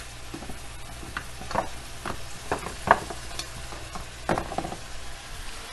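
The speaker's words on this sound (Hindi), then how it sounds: "ये गोश्त थोड़ा सा हम भूनेंगे इसमें पहले" Meat browning in a pot for yakhni pulao, a soft continuous frying sizzle broken by scattered spoon clicks and stirring knocks, close and moderately loud.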